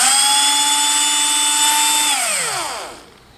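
A power drill spins a bolt held in its chuck as a fly line is spooled, holding a loud, steady whine for two seconds before winding down and falling quiet.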